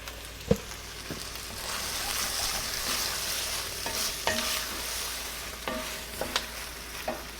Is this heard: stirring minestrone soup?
yes